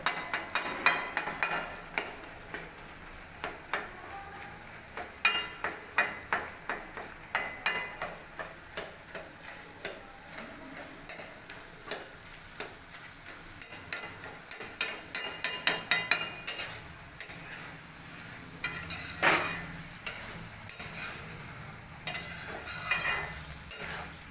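A utensil stirring and mashing cooked eggplant in a pan, with irregular clacking and scraping taps against the metal over a soft sizzle, moderately close and continuing with brief pauses.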